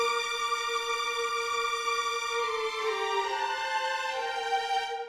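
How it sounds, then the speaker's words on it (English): Sustained string ensemble chord from recreated Witcher 4 demo music, smooth and even, the harmony shifting slightly partway through and holding at moderate volume. "And so the ensemble patch sounds like this."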